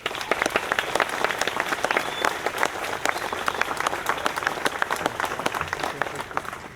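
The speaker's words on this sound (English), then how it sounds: "So will you give them a round of applause?" An audience claps in sustained applause at a university hall grand opening and peace pole dedication, dense and even throughout, a large crowd heard from within the room, with no speech over it.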